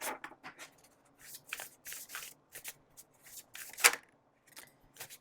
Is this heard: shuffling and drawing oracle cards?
yes